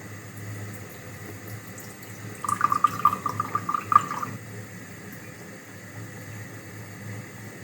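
Water is poured into balsamic vinegar to mix a dressing for a chickpea salad, a short splashing run of a couple of seconds mid-clip over a quiet, steady room hum.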